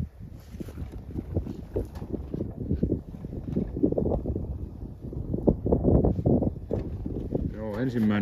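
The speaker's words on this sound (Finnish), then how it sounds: "mutta tuli melkoinen tuuli" Strong, cold winter wind gusts outdoors during a chimney sweep's visit, a rough continuous rumble of wind buffeting the microphone, with people talking over it throughout.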